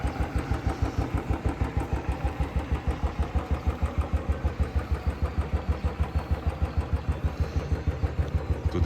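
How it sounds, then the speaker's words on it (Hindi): A Royal Enfield motorcycle idles after a cold start on a Himachal trip, its single-cylinder thump beating in a fast, even rhythm. The sound is steady and close, with no talking. "कोल्ड स्टार्ट के लिए लगा दिया भाई। धीरे धीरे रॉयल एनफील्ड में थोड़ा टाइम तो लगता ही है इसमें।"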